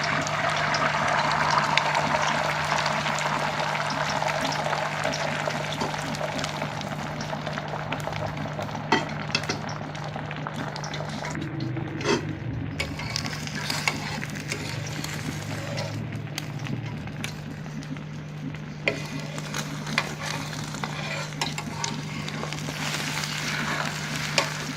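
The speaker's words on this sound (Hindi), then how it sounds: "तवे पर मैंने 2 चम्मच ऑयल डाल के गरम कर लिया अच्छी तरह से। और इसमें ये फेंटे हुए जो अंडे हैं ये मैं डाल दूँगी।" Beaten eggs in two spoons of hot oil on a griddle, frying with a steady loud sizzle throughout, close up, with someone talking over the cooking.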